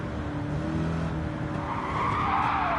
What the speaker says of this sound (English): When I heard the tires screeching, I knew it was going to try and go sideways again